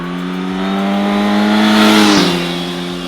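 A Suzuki GSX-S 950 roadster with its stock exhaust revs up close by, its engine note swelling and rising in pitch before easing back off, loud with no talk.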